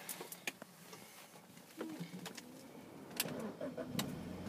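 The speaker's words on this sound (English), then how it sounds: "look at the display whilst I start the car" A car engine cranks and starts in the background, a fairly faint and muffled rumble with clicks and brief tones from the dashboard display. The engine management light is on. No one speaks.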